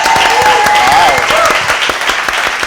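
Studio audience applause for a cooking show's 100th episode, dense clapping with whoops or voices mixed in, loud and steady before easing slightly toward the end.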